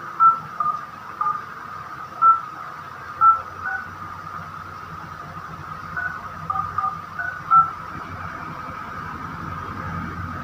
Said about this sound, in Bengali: কল যাচ্ছে গাইজ।